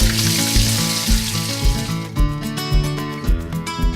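Onions and pork sizzling in a pressure cooker: a loud, close hiss of frying in the first two seconds that fades into a quieter crackle under a steady tonal background with soft thumps.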